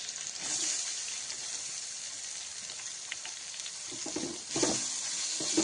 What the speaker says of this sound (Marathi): कांदा छान परतून घ्यायचा लाल होईपर्यंत।